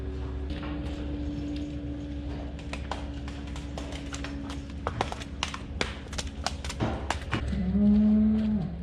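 Brahman cross cows mooing on a farm, a long low drawn-out moo near the start and another rising call at the end, with hoof clatter and scattered knocks in between, no talking.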